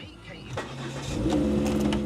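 A used hatchback with 91,000 miles on a hot 30-degree day cranks briefly and catches, settling into a steady, fairly loud idle close by, with a voice faintly audible beneath.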